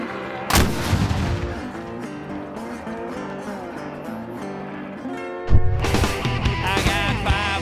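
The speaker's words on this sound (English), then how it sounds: "You better bring the heavy artillery." Heavy artillery fires at a Louisiana celebration in Plaquemines: two loud, booming blasts several seconds apart ring out over steady music.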